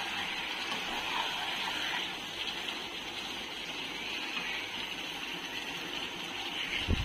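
Hot water pours steadily into a pan of chicken curry for a thin chicken broth, making a continuous rushing gush that holds at an even level from start to finish.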